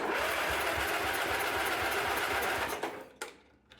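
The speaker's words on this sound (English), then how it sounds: "let's just give it a crank test" A 1980 MTD lawn tractor engine cranks with a rapid, even mechanical chatter and pulsing churn for about three seconds, then cuts off with a couple of faint clunks.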